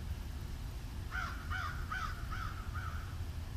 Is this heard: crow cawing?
yes